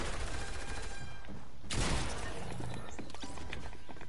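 Rapid gunfire in the video game Fortnite, a dense burst of shots followed by a loud crashing impact and scattered further shots.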